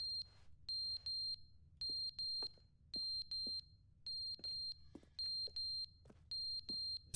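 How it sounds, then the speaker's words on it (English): Beeping alarm in the video game The Stanley Parable: crisp electronic beeps in quick clusters of two to four, repeating in an even cycle over faint background hum. "What's that beeping for?"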